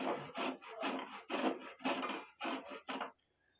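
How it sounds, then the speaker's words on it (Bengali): A mango is grated with a handheld scraper, giving about seven close, rhythmic rasping strokes in quick succession before a short silence at the end. "এরপর আমটাকে আমি এই কুড়ুনির সাহায্যে এটাকে কুড়ে নেব।"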